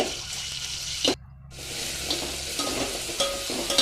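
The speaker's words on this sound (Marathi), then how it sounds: "पाट्यावरती वाटलेलं जे मगाचं वाटण होतं ते टाकूया छान असं परतून घेऊया थोडंसं तेल सुटेपर्यंत परतायचं आहे आपल्याला ते" Stone-ground masala paste sautéing in oil, a steady close sizzle with stirring scrapes running throughout, broken by one brief silent gap near the start.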